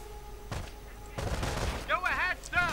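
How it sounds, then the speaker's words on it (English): Mortar rounds and gunfire burst in a tank strategy war game, with loud blasts and crackling volleys in several bursts, while a voice talks over part of it. "Mortar rounds falling."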